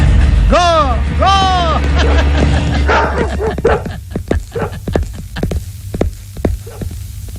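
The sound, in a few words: dogs barking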